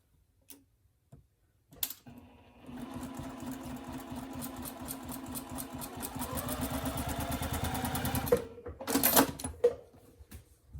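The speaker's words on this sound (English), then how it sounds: "I'm going to take it over to my sewing machine" A sewing machine stitches a placemat in a steady rapid clatter for several seconds, rising slightly in intensity, framed by a few clicks and knocks before and after.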